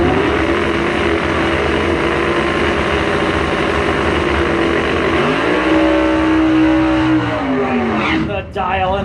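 At a bracket drag race, a Camaro and a Ford run side by side, and their engines keep up a loud, continuous roar from near and far, with a rising whine near the end.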